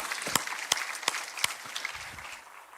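Scattered claps from a church congregation at a retreat gathering, a handful of sharp separate hand claps spaced about every third of a second, close and fairly quiet, thinning out near the end.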